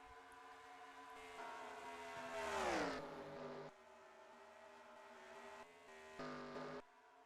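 A pack of six racing trucks in a stock-car truck series video game roars around a Michigan oval, a layered engine drone swelling and sweeping down in pitch as the group passes, then settling into a steadier hum.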